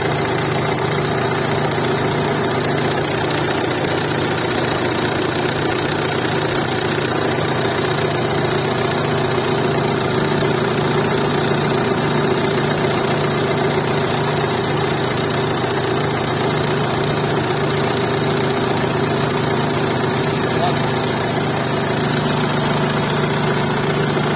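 A Renault Megane 1.9 dCi diesel engine idles steadily throughout, a close, continuous low rumble with slight knocking vibration and no voices.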